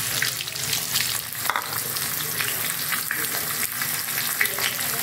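Finely chopped onions fry in a pan with black peppercorns, giving a loud, continuous sizzle and crackle with faint stirring scrapes throughout and no talk.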